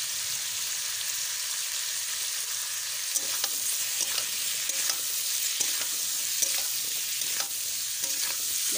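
Spiced crab and potato curry fries in a pan, a steady loud sizzle with repeated scraping stirs of a spatula through the thick mixture, heard up close with no voices.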